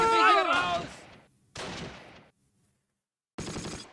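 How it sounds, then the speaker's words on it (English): Mortar and artillery fire in the Close Combat WWII strategy game, set at Mortain 1944: three separate heavy bursts of booming impacts and crackling debris, the first one loudest, with short silent gaps between them. "Artillery fire."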